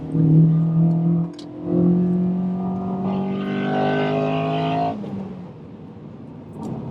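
A Honda Accord Euro R CL7 saloon with a K20A VTEC engine, heard from inside the car as it revs hard into VTEC with a climbing, rising note, then lifts off sharply near the end. No one speaks.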